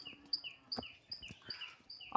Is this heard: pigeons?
yes